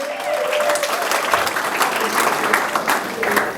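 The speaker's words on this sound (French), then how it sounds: "Montrons maintenant avec nos acclamations pour dire que nous sommes contents." Dense, steady applause and cheering from wedding guests, loud and close throughout, with a faint tonal note near the start and no speech over it.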